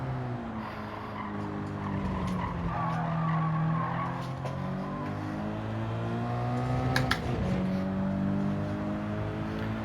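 Tires skidding under power oversteer in Gran Turismo 7, a sustained loud squeal over a droning engine that shifts pitch as the rear slides, continuous for the whole stretch.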